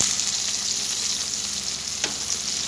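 Chopped onions fry in hot oil with a steady, close, dense sizzle throughout and a brief sharp crackle near the end; no voices.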